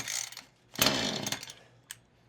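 A chainsaw with a replacement HIPA carburetor and new fuel filter, which won't start or stay running, gives a couple of short, loud bursts as the engine is pulled and briefly catches, then falls quiet.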